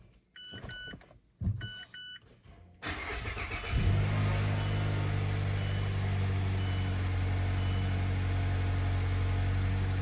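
A Mazda CX-5 just after a spark plug change: a few electronic chimes and clicks, then the engine cranks and starts, settling into a steady close idle.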